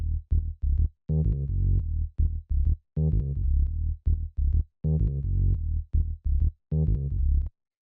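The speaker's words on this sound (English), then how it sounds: "So this is the bass line." A low synth bass line plays short repeated notes in a choppy rhythm with brief gaps, deep and prominent with nothing else around it.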